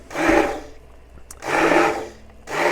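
An immersion blender whirs through a bolognese meat sauce in three loud, rough pulses with short pauses between, close up and without talk.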